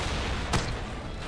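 Single sharp blast in an animated fan movie crossover of One Punch Man, a brief burst rising out of a dense, rumbling background roar.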